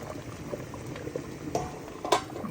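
Pear preserves boil in a pot as they thicken toward the gel stage, a close, steady bubbling with soft pops and a few sharper bursts, with no talking.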